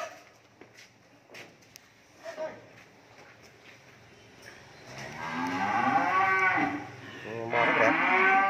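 Cattle at a cattle farm let out long, loud mooing calls in the second half, two drawn-out bellows close by, after quieter stretches of scattered thumps and faint background noise.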